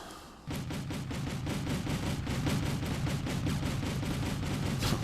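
A Kamaz truck's weapon in Wargame: European Escalation fires at a Cobra helicopter in a steady, rapid stream of shots that starts abruptly and stays loud and continuous.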